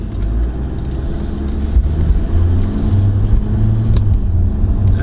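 A 2016 Porsche Cayenne S with a V8 diesel engine pulls away from a standstill, a deep, steady low rumble heard from inside the cabin that swells slightly as it gathers speed.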